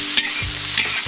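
Pork tipped into a hot wok with octopus and sugar, then stir-fried: a loud close sizzle with two sharp scraping strokes of the spatula against the metal.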